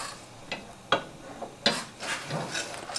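Semi-sweet chocolate chips stirred in a pan to melt, a few soft scrapes and clicks of a utensil at uneven intervals, quiet and close.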